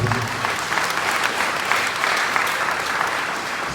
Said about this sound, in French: Pas mal de nous pour applaudir